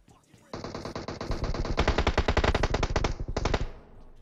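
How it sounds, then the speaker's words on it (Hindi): Sustained automatic gunfire in PUBG Mobile, loud rapid bursts close by, continuous for about three seconds before cutting off. "अब देखो गोलियां चल रही हैं"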